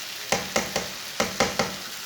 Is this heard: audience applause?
no